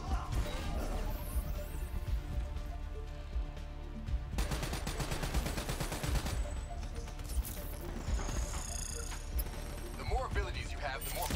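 Heavy gunfire in Call of Duty Black Ops 3 campaign combat, rapid automatic bursts and crashing impacts layered densely throughout, with a voice talking over the battle.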